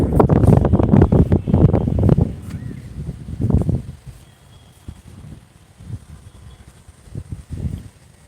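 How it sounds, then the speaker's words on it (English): Wind buffets the microphone in heavy, rumbling gusts, loudest at the start, then easing into quieter intermittent puffs. "it's pretty windy at this moment"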